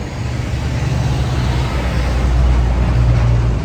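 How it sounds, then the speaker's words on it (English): A bus rolling past on a city street, a loud broad roar of engine and road noise that swells slightly toward the end, with low motor rumble underneath and no talk. "Let's wait for the bus to go"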